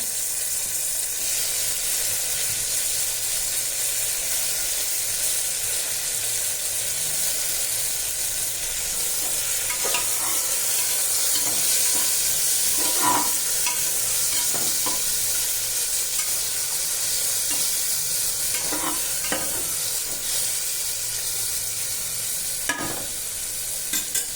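A steady, loud sizzle of chopped tomatoes frying with onions in a pan, with occasional scraping stirs, close and continuous throughout.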